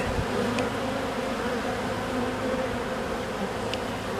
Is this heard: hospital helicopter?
no